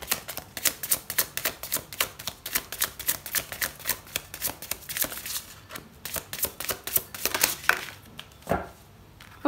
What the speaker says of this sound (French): Je voudrais quand même tirer une autre carte